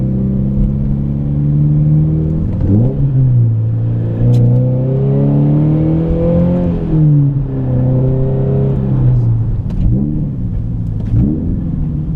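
A 2013 Subaru BRZ Premium six-speed manual driven at full throttle, engine loud and close from inside the cabin, revs climbing then dropping with gear changes several times over a steady rumble.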